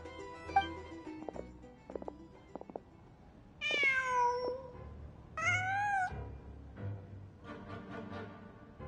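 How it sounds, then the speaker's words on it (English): A cat meows twice in the video game Genshin Impact, two clear drawn-out calls a second or two apart, heard alone over soft background sounds with a few faint clicks before. "Just a cat."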